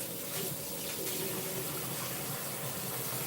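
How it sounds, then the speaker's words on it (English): Water poured over frozen solid items before stir frying, a steady close gushing splash running throughout with no talk. "So I'm gonna put some water on them,"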